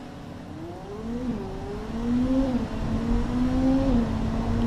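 Engine of a McLaren MP4-12C replica car in a car-building video game accelerating, a steady mid-loud rising drone that shifts pitch a few times as gears change, with no talk.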